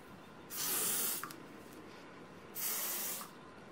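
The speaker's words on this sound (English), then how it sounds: "now I'm going on with some hairspray" Hairspray hisses from an aerosol can in two short bursts, each about three-quarters of a second, separated by a brief pause and a faint handling click, close and fairly quiet.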